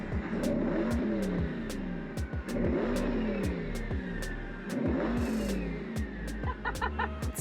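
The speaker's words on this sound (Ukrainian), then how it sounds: "Чуєте цей свист? Це завдяки двом турбінам. Ви можете чітко чути, як вони працюють." Twin-turbo engine of a Devel 16 hypercar revs in repeated surges with sharp clattering bursts and a faint whistling hiss over the low engine drone, close and fairly loud.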